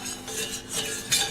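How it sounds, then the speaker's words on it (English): A spoon scrapes and clinks against a pot while stirring a flour roux as it browns, a steady soft scraping with a brighter clink near the end, close by and without talk. "we're gonna stir it, keep stirring it until it gets brown"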